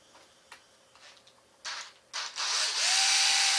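A few faint ticks and scrapes, then a power drill whirs in short bursts before running in one sustained, louder whine near the mic.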